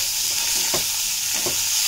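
Tomato sautéing in oil in a pan for a no-onion, no-garlic kurma, a continuous bright sizzle close by with a few soft stirring scrapes, no voices.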